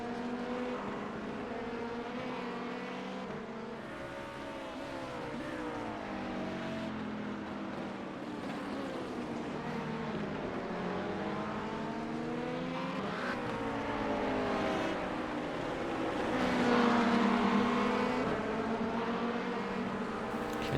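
LMP2 and GT3 race cars in the iRacing simulator, a steady loud multi-engine drone with gears shifting and pitch sweeping up and down as cars accelerate and brake, swelling louder near the end with no talk.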